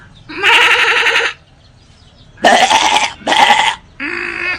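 A young goat bleats close up, letting out four loud, wavering cries with brief quiet gaps between them, the last one shorter and weaker, and nothing else heard.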